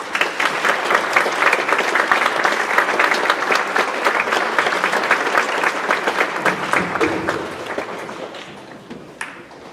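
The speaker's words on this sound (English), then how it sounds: "let's give them a little applause too." School audience at a veterans program applauds loudly and continuously for several seconds, dense clapping that gradually thins and fades toward the end.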